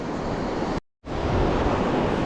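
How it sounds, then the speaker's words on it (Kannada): Water rushes steadily between lakes along Hooker Valley Trail in New Zealand, a loud continuous roar mixed with wind buffeting the microphone, broken by one brief moment of silence. "ನೀರು ಶಬ್ದ ಕೇಳಿಸ್ತಿದ್ಯಮ್ಮ?"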